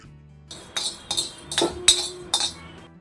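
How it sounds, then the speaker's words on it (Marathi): Coriander and fenugreek seeds dry-roasting in a pan give a quick series of sharp, close crackles and clinks, about five bursts in three seconds. "धने मेथी पण भाजून झालेली आहे पण फटफट असा आवाज येतो"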